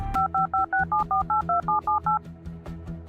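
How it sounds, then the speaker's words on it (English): Telephone keypad tones beep in a quick, evenly spaced run of about eleven presses, loud and close, over a low droning musical backdrop. "He grabbed his phone and dialed 911"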